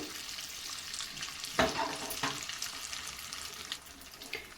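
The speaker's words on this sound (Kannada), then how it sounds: "ಅದಕ್ಕೆ ಗೋಡಂಬಿ ಹಾಕ್ತಾಯಿದ್ದೀನಿ ತುಂಡು ಮಾಡಿಟ್ಟಿರೋವಂಥದ್ದು ಅದು ಸಹ ಚೆನ್ನಾಗಿ ಫ್ರೈ ಆಗಬೇಕು ತುಪ್ಪದಲ್ಲಿ" Cashew pieces fry in melted ghee for a wheat payasam, giving a faint bubbling sizzle close by, with a sharp clatter of a utensil partway through and a few soft stirring scrapes.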